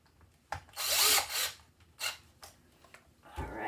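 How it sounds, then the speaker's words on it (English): A power driver tightens screws on a Pro-Line PRO-MT 4x4 RC monster truck, with a couple of short, close whirring bursts separated by brief pauses and a final spin starting at the end. "Use the driver to speed up the process here and finish this off by hand"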